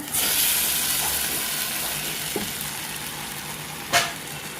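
Ground green curry paste hitting fried chopped onion in a pan for a Bombay duck green curry, a loud steady sizzle and hiss that slowly eases, with a brief sharp clatter near the end.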